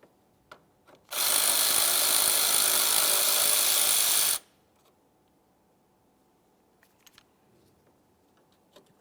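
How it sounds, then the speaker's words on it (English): A power tool spins out a 10mm-headed bolt on a Volkswagen Jetta engine bay, one loud continuous whir of about three seconds, then faint clicks and handling noises in a quiet workshop. "We'll go ahead and remove this 10mm headed bolt so we can pop this out of the way."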